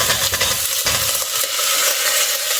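Chopped chayote (chow chow) sautéing with onions in a pan for a South Indian kootu, a steady close sizzle and fry with scraping stirs on top, no talking.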